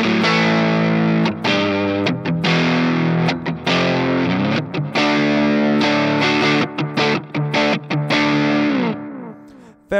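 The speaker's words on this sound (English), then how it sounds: "high gain, sort of Selmer-y sort of tones with something like an overdrive pedal in the front end." High-gain electric guitar through a UAD Chandler GAV19T amp plugin, with an overdrive pedal at the front end, playing loud, gritty distorted chords and riffs with short gaps and a fading end, no voices.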